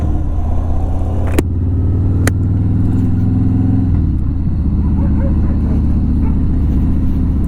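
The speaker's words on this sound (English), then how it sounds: "Damn dogs on that corner lot, every time I pass by they just bark like crazy" Dogs on a corner lot bark at a passing car at night in El Paso, heard faintly from inside the car under the loud, steady engine drone as it drives by.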